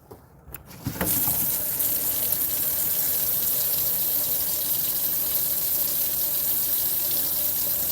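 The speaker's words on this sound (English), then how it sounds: "We still got dripping water." Water running steadily from an outdoor faucet in a Texas winter freeze, a loud continuous splashing stream that starts abruptly after a second of quieter handling noise and holds without pause.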